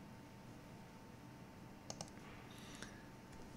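A few faint computer mouse clicks, a quick pair then a single click, over a quiet room hum.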